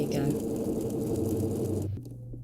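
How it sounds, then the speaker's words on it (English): A sewing machine running a continuous triple stitch around a girl's shorts garment, a steady close mechanical whir that stops abruptly near the end. "So triple stitch again all the way around."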